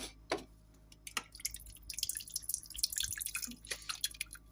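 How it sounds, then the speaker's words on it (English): Leftover stout is poured into a melted mixture for a no-sugar Easter spice bun, giving faint trickling, dripping and splashing sounds in scattered bursts close to the microphone. "To that, I'm adding the remainder of the leftover stout."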